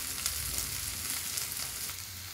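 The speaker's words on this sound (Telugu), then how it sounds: "కూరంతా బాగా కలుపుకున్నాక మరికొంచెం సేపు మగ్గనివ్వండి" Okra curry (bendakaya iguru) seasoned with salt and chili powder, cooking in a pan, gives a steady close sizzle and bubbling hiss that keeps going without break, with no voices.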